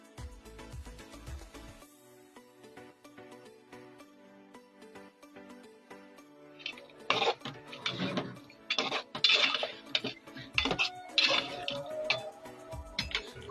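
Beef and potatoes are stir-fried in a pot with oil, first quiet with faint ticking, then sharp metal spoon scrapes and clinks against the pot in irregular bursts.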